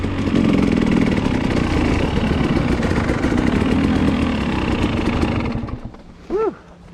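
Dirt bikes riding a forest trail, a loud close engine roar that holds steady then fades away near the end, followed by a brief tonal squeak.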